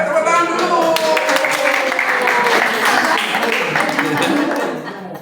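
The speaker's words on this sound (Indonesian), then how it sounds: "ayo tepuk tangan dulu" Audience applause during a group activity, a dense steady patter of many hands clapping for about five seconds before thinning out, with voices faintly mixed in.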